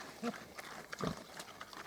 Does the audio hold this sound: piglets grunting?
yes